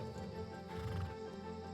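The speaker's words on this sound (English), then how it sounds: "I need to get off the horse for this one" A horse in the video game Ashes of Creation gives a clear, loud whinny, with hooves clopping underneath and a steady musical background.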